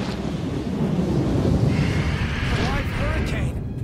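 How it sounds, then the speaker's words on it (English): Roaring storm creature from Final Fantasy XV, half bird and half storm, rendered as a loud sustained rumbling roar with gusting wind, overlaid by faint high whistling sweeps near the end. "A live hurricane! That thing's like half bird, half storm, half airship."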